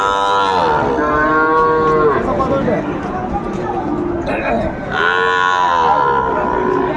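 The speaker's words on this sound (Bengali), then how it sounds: "শাহিওয়ালের ষাঁড় বাচ্চা।" Sahiwal bull calves mooing loudly and repeatedly at a crowded cattle market, with drawn-out bellows near the start and again toward the end over steady crowd chatter.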